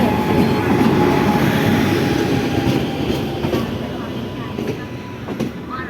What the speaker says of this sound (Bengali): আচ্ছা, আমাদের ট্রেন আসলো এখন।